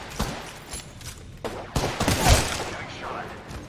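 Bursts of gunfire in the battle royale shooter Apex Legends: scattered shots, then a louder cluster of rapid fire near the middle, heard up close amid other game sounds.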